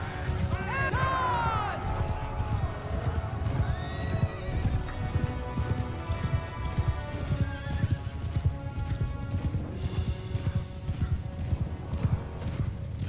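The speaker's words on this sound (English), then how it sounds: "I feel like my horse is running very slow for some reason." A horse galloping in the video game Mount & Blade II Bannerlord, with rapid continuous hoofbeats throughout and whinnies near the start, plus some game sound layered over the run.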